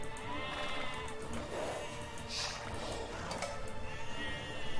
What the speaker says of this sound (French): Les moutons ils sont là, c'est cool.